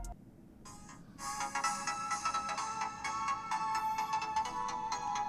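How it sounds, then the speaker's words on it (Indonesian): An electronic NCS track plays through the small speaker of a realme C20 phone, thin and bright with a pulsing beat, starting after a brief quiet moment. "Langsung kita nyalain buat dengerin musik dari NCS ya."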